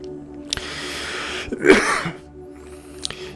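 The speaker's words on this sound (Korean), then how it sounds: "저녁 되니까 기침이 나오네" A single close, harsh cough bursts out over a low hum of room tone in a quiet indoor setting during an evening livestream talk, with faint clicks before and after and no speech around it.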